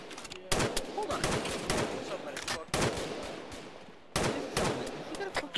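Enemy gunfire in a military operation: bursts of rapid automatic shots in several sharp volleys separated by brief pauses, loud and crackling, with a voice speaking faintly in between.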